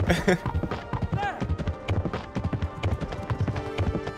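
Hooves clip-clop in a brisk, even rhythm as horses move along in Kingdom Come Deliverance, fairly close and loud, with a short voice-like sound near the start.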